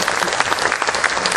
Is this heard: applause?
yes